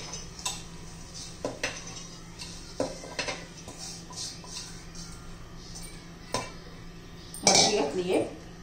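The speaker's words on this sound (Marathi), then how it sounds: "तर पहा, आता मिक्सरच्या भांड्यामध्ये ही मटकी काढून घेऊया." Sprouted moth beans are transferred into a mixer jar with a scattered series of clinks and knocks from a spoon against the vessel, with a louder clatter near the end, over quiet background.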